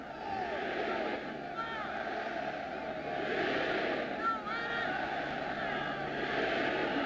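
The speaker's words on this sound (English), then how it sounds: "Crowd chanting defense." A football stadium crowd during a 1986 Chicago Bears game chants defense, a broad roar rising and falling in waves beneath a broadcaster's voice.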